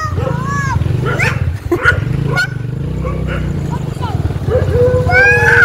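A dog barks several times in short bursts over a background of people chatting, with honking-like calls mixed in.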